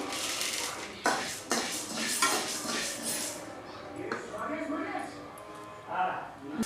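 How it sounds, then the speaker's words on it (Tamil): Urad dal roasting in a pan, with the scrape and clink of a metal spoon stirring against the pan in several uneven strokes, close by and under talking. "உளுந்து வறுத்துக்கிட்டு இருக்கேன்."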